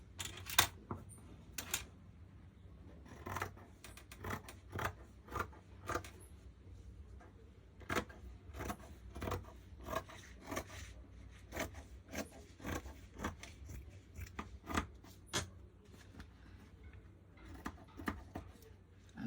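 Scissors cut through red dress fabric for a band, a long run of quiet, close, rhythmic snips and crisp rasping strokes with no talk.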